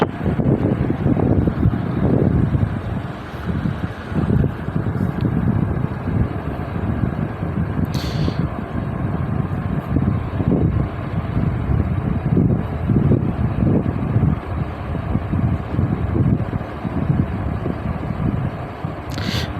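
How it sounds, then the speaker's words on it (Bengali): Gusty wind blows outdoors as rain falls under a darkening sky before a storm, a loud continuous roar with buffeting on the microphone and a few faint higher sounds in the distance. "বাতাসের সঙ্গে সঙ্গে দমকা হাওয়া বয়ে যাচ্ছে"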